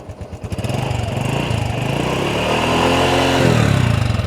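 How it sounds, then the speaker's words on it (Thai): A secondhand Honda Dream Super Cub motorcycle starts on the first try and settles into a steady, close idle with a rapid even putter, no throttle needed, and no voices over it. "สตาร์ท นี่ทีเดียวติดไม่ต้องบิดคันเร่งช่วยเลยเห็นไหมฮะ"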